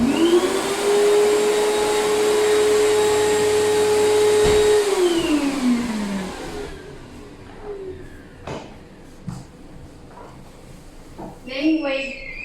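An electric hand dryer in a mask factory's dressing room blows loud and steady, then winds down to stop, leaving faint room noise and a few scattered knocks.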